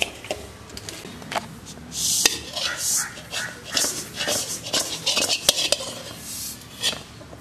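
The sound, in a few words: stirring sesame seeds into rice flour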